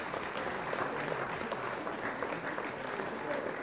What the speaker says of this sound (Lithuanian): Aplodismentai.